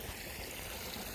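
Water current flows steadily where someone is fishing in waves, a soft continuous wash with a light trickle, close and unbroken throughout.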